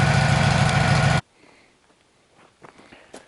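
A Woodmizer LT sawmill engine idles while warming up, loud and steady for just over a second before cutting off abruptly, leaving near silence with faint footsteps and handling noises.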